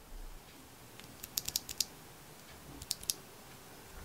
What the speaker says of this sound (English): here's what the switches sound like, just on its own